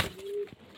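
Pigeon cooing among racing-type pigeons kept for flying, a single close, moderately loud low coo holding steady for about half a second before a brief soft follow-up note.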